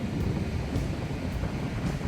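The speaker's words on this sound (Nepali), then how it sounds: "नेचुरल हावा यस्तो आइरहेको छ" Steady wind blows over the microphone beside a river, a dense, even rush with no voices.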